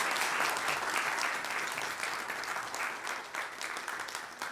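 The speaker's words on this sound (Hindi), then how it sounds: "क्या हम अच्छी ताली बजा सकते हैं उनके लिए?" A church congregation applauds to honor the mothers, a dense, steady wash of many hands clapping together throughout, loud and continuous with no pauses.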